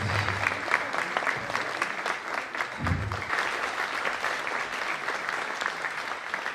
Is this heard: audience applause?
yes